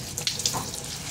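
Water is poured over a pet civet during a bath, a short close splashing gush with faint splatter.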